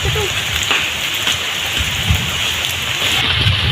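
Heavy rain pours down in a steady, dense hiss with a constant low rumble underneath, loud and close, with no voices.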